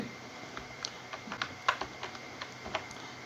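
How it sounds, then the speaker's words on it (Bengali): A student's name is typed into school evaluation software on a computer keyboard, giving a quiet, uneven run of light key clicks with one or two firmer taps and no speech. "আমি তার নাম লিখছি"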